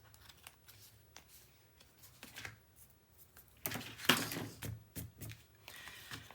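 Scissors trim the fuzzy edges of black cardstock, giving sporadic crisp snips that are faint at first and then a closer, louder cluster of quick cuts.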